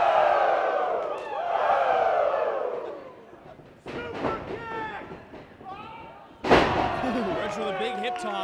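Wrestling arena crowd at a live independent pro wrestling show, loud cheering and chanting from the stands, swelling and dipping with several sharp roars and a sudden loud burst near the end.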